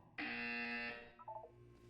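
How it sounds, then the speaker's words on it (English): A single loud, harsh electronic buzz from Portal 2 lasts under a second, followed by a short soft electronic chime. "You will hear a buzzer."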